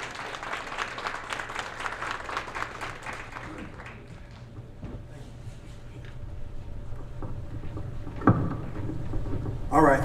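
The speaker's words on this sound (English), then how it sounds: "Please give a big round of applause for Jonathan." An audience applauds a speaker named Jonathan at a District 7 election campaign kickoff, a dense patter of clapping at the start that thins out and fades, with voices and a few thumps afterward.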